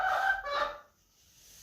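Backyard chickens, a close rooster-like call with clucking bursts, bright and short, fading into quiet after under a second.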